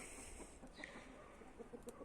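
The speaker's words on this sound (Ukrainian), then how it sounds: "От і оце курочки мого півника. Вони прийшли сюди." Hens belonging to a rooster cluck faintly outdoors, a few soft, scattered clucks over a quiet, hissy background with no talking.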